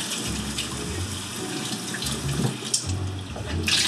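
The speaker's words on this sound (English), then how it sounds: "Dump the water out." Water pours and splashes steadily out of a film developing tank into a sink during C-41 color film processing, a continuous close gushing stream with small surges.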